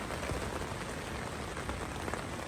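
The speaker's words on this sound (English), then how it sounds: "It's pouring down rain" Heavy rain pours onto a tent while campers shelter during an Alaska Dall sheep hunt, a dense, steady, loud hiss of drops with no pauses.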